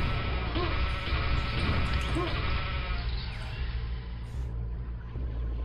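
A sheep gun replacing the shotgun in a modded first-person shooter fires cartoonish sheep bleats, several close loud bleats over buzzing insect-like game noise, with no talking.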